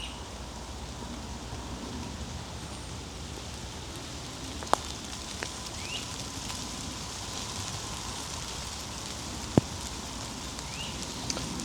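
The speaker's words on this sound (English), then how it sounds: "The trees are raining on us again." Rainwater drips from the trees in the woods after a rain, a soft continuous patter with a couple of sharper isolated drops against steady background hiss.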